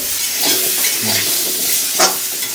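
Rohu fish fries in hot oil in a pan with raw pumpkin, giving a loud continuous sizzle and hiss with a few spatula scrapes and brief louder spits, close up.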